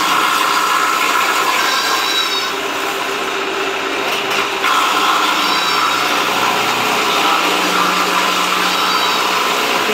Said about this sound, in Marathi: तर हे चाप कटर बघा कसे काम करतं